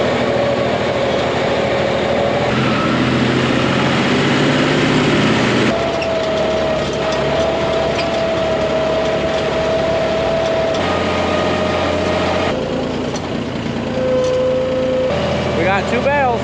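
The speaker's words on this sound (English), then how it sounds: "when I go on the tractor" A tractor engine runs loud and close on a horse farm, a steady, heavy drone that holds throughout with small shifts in tone.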